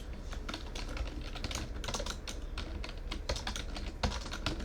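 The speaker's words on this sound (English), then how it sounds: "I typed it in." Rapid typing on a computer keyboard, a dense, steady clatter of close keystrokes with occasional louder clicks and no talking.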